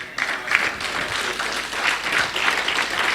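A church congregation breaks into sustained applause to acclaim the Lord, a dense wash of clapping that swells and pulses steadily throughout with a few brief cheers mixed in.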